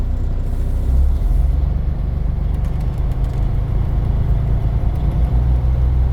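Diesel truck engine holding a steady, loud idle-to-raised rumble during a pre-trip air governor check, with a few faint higher ticks over the continuous low drone and no talking.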